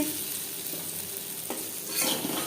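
Potatoes fry in a pan with a soft, steady sizzle, close and fairly quiet, lifted by a brief stir around the middle and a louder hissing flare near the end; no talking.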